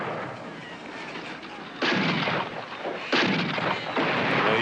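Gunfire in a western film scene with wagons under attack, heavy booming shots cracking out every second or so over a constant roaring, chaotic background, loud and without talk.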